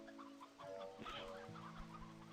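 Several chickens cluck softly in short repeated bursts over a faint steady background hum, game audio from Slime Rancher 2 at low volume.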